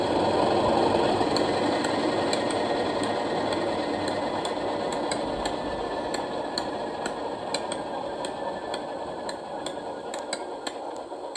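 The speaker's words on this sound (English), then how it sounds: "So here's the engine shutdown sound." An Accurascale Class 37/6 model locomotive's sound-equipped diesel engine runs down to shutdown, a steady mechanical drone with faint regular ticking that slowly fades over several seconds.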